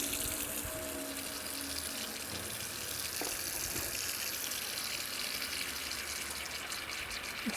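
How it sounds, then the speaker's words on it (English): Water runs steadily into an outdoor garden sink on a patio sink station, a continuous close splashing stream with no talk over it. "We have a working sink, and the overflow is right there, and it'll flow out into the yard."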